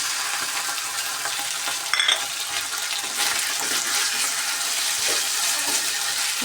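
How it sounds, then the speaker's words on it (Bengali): Green chilli and cumin paste go into frying onion in a pan, with a continuous close sizzle, a brief clatter partway through, then renewed crackling and stirring. "এখন এর মধ্যে দিয়ে দিব কাঁচা লঙ্কা আর হচ্ছে জিরা বাটা।"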